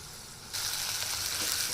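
Spices for a capsicum curry tempering hit hot oil with a sudden burst of loud, steady sizzling that begins about half a second in and continues evenly to the end, with no talking.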